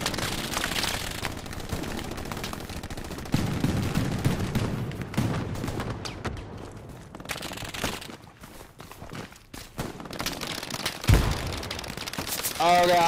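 Machine gun fire and other gunfire in the Hell Let Loose war game clatter in loud bursts amid battle noise, with people shouting and talking throughout.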